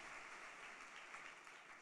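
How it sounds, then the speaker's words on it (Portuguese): Steady applause from a congregation during a church sermon, a continuous wash of clapping at moderate distance with no voices standing out. "Agora sim você pode aplaudir o Senhor"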